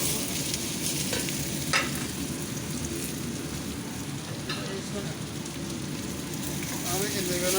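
Coconut fries with ginger and garlic in a hot pan, a steady close sizzle broken by a few sharp scrapes of a spoon stirring against the metal, continuous throughout with no talking.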